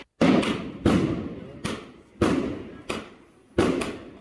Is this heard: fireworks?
yes